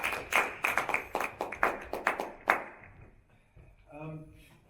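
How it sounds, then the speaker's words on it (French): A small gathering at a training session claps in a loose cluster of distinct, sharp hand claps that fade out after a few seconds, followed by a voice speaking quietly. "on applaudit très fort."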